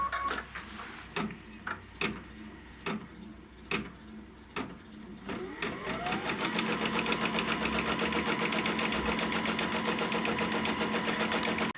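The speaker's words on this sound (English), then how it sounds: "so I'm going to go ahead and stitch that" A computerized sewing or embroidery machine first ticks through a series of separate clicks, then settles into fast, steady rhythmic stitching as it sews down a batting placement line.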